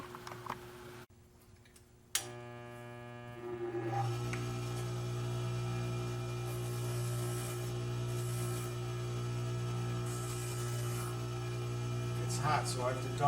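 A bench grinder shapes a pendant at home, spinning up after a click and then running with a steady, close mechanical hum and faint grinding, with a few brief bursts of contact noise.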